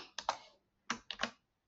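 Typing on a computer keyboard: two close, crisp bursts of rapid key clicks separated by a short pause, with no voices.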